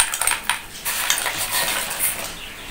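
About 500 g of rock sugar clatters into a pot of boiling milk and rice, giving a dense run of bright clinks and rattles close by, with no voices.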